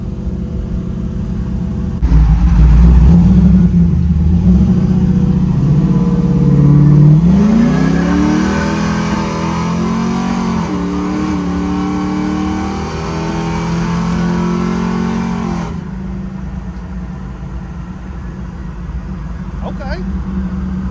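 A 1968 Chevelle with a cammed 5.3-liter engine drives along, its exhaust holding a steady low drone with rising revs midway. People talk over the rumble through much of the stretch.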